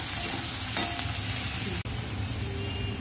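Onion and tomato fry in hot oil while being stirred for a fish curry, giving a steady, close sizzle with a few soft scraping strokes and one brief sharp knock, with no voices.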